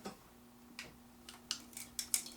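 Ice in a HyperChiller crackles as hot coffee at 184 degrees is poured over it, a few faint, sharp ticks and snaps spaced irregularly over a quiet background.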